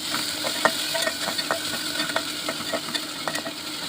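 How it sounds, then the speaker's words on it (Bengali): A spice paste of ginger, garlic and cumin sautés in a pan for a fish curry, giving a soft, continuous frying hiss broken by frequent light scrapes and clicks of stirring. "ভাজতে ভাজতে একটু আদা রসুন বাটা, জিরে বাটা দিয়ে ভালো করে কষিয়ে নিলাম।"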